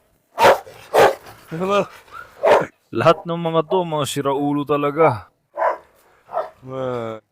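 Several sharp barks from farm dogs, a Belgian Malinois and a Karabash, ring out one after another, then a person talks loudly over more barking and yipping.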